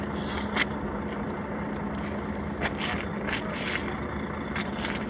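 The Silistra–Călărași ferry's engine drones low and steady close by, with occasional scraping and clanking noises breaking through the constant rumble.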